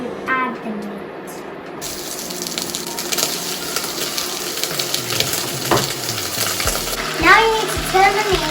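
Floured beef pieces going into a medium-hot pan of olive oil, starting quiet and then breaking into a continuous close sizzle with scattered pops and a few clinks of utensils.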